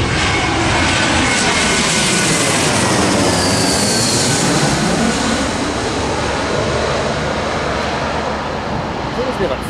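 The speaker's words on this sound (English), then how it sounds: "There's been like four Jetstar flights." A Jetstar passenger jet flies over on its approach to land, a loud, continuous broadband roar that swells and fades across the whole stretch, with a few voices faintly underneath.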